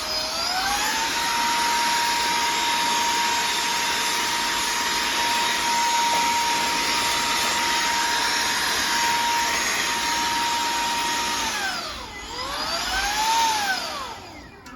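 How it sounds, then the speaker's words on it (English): An electric blower or vacuum runs loud and close with a steady high whine for a long stretch, then its pitch dips and surges as it is switched or moved near the end. "I just got a blower and a vacuum."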